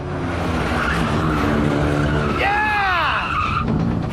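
Race car cornering on a track with a loud engine drone, then a sharp rising and falling tire squeal as it skids through the bend, close and sustained over about a second.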